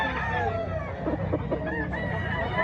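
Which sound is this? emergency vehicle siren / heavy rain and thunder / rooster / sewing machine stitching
rooster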